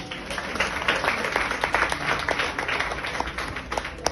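A Spanish-speaking church congregation claps for God during an evangelistic service, a steady, full wash of many hands with sharp individual claps, sustained throughout.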